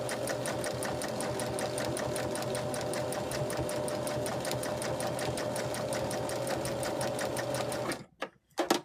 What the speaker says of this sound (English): we're just going to sew straight in a line